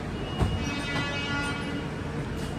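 Kanchankanya Express passenger train running after departing Bardhaman station, heard from inside as a steady loud rumble and rattle of the carriage with a brief thump near the start, continuing without talk.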